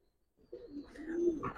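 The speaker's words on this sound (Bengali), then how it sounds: "আমাদের বাড়ির একটা মেন কবুতর" A main pigeon from a home loft of Giribaz tumblers coos once after a short silence, a low, rolling, close call rising into a brief higher note, with no talk.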